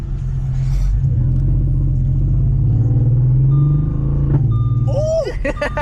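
A badly misfiring Audi S4 engine, a loud uneven low rumble up close from inside the car, with a beeping tone and voices breaking in near the end.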